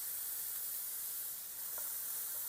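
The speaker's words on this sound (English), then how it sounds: "We're just gonna heat it up to saute the onion." Chopped onion sautéing in olive oil in a hot skillet, a soft, continuous sizzling hiss, fairly quiet and steady with no voices.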